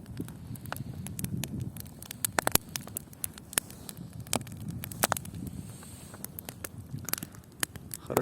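A campfire burns on a beach in autumn, giving scattered sharp crackles and pops over a soft low rumble of flames and wind. The sound is fairly quiet and has no talk over it.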